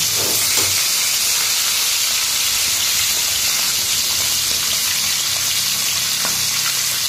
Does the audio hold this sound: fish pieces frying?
yes